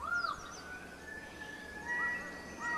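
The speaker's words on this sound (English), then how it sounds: "a rainbow lorikeet," A rainbow lorikeet calls in a New Guinea forest with a few harsh, squawking notes, one sharp call near the start and more further back, set against a dense hum of forest ambience.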